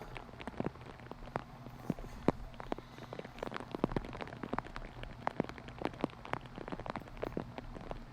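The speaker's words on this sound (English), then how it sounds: "A couple of raindrops coming down. A lot of raindrops" Rain pattering on a golf course during a wet round, with dense scattered drops and sharper splats falling steadily for several seconds, close and moderately loud with no talking.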